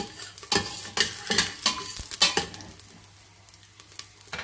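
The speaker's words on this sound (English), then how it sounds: "We'll saute this till the nice aroma fills our kitchen." Green chili sautéing in a hot pan, with repeated scraping stirs over a steady sizzle and frying crackle. The stirring strokes come in an uneven rhythm, close and fairly clear, with no voices.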